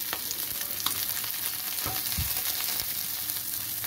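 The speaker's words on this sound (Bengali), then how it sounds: "এগুলোকে ভালো করে ভাজা করে নেবো" Vegetables fry in a pan with a steady, close sizzle. Occasional stirring scrapes and knocks run through it, and no one speaks.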